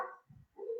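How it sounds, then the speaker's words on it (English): A dog barks at the front door indoors, a couple of short muffled barks, moderately near, with no talking over them. "there goes my dog barking at the door"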